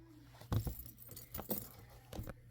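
A small metal skeleton key charm attached to a steampunk Halloween box jangles in a few close, bright clinking bursts, with quiet pauses between them.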